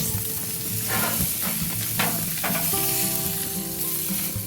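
Franklin sausages and vegetables sizzle and crackle steadily in a hot pan for a keto dinner, with occasional stirring scrapes and a faint tonal hum in the background, no talking.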